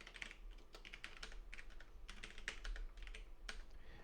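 Quiet keystrokes on a computer keyboard tap out a password in quick, uneven bursts with short pauses, close and soft over a low hum.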